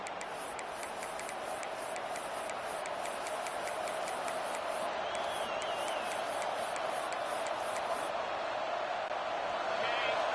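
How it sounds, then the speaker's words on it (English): In the NCAA 26 college football video game, a packed stadium crowd roars as a steady, dense wall of noise, with a fast repeating ticking layered on top for the first eight seconds. "It's early, but this crowd is fired up. Listen to this noise here."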